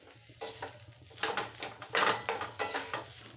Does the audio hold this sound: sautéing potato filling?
yes